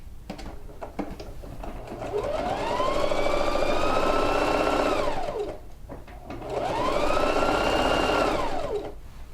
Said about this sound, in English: So just stitching at 1/4 of an inch